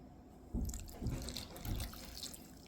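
Water is poured onto chopped dates and sugar in a kitchen bowl, coming as a few soft gurgling splashes at roughly half-second intervals, faint and close with no voices.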